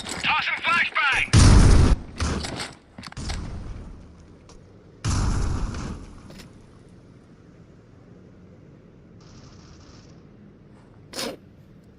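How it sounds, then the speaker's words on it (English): A flashbang grenade goes off in a competitive tactical shooter match between Russia and Brazil, with loud bursts of gunfire and explosions in the first seconds, then a quieter stretch with one more sharp crack near the end. "Tossing flashbang!"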